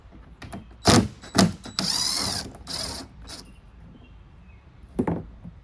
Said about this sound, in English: so I'm gonna bolt that on there